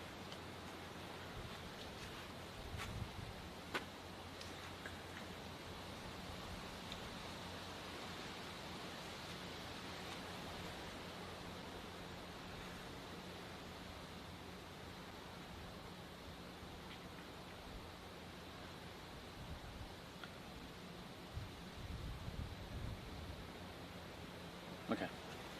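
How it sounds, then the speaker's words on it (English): Wind buffets the open outdoors at Kanku-Breakaways Conservation Park, a low, continuous rushing rumble with occasional stronger gusts thumping through. "Fucking wind."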